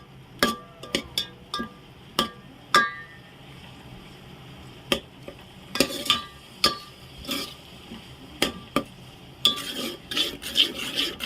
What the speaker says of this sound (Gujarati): આ રીતના આપણે બધું મિક્સ કરી લેશું.